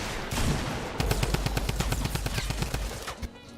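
A rapid burst of automatic gunfire in Fortnite, about twenty close, evenly spaced shots that rattle off for roughly two seconds after a brief rushing sound.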